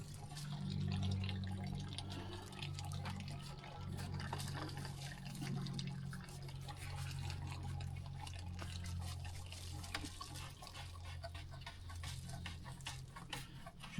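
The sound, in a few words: water filling pump house well below water level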